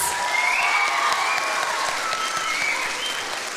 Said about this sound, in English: Let's give Aida one more round of applause.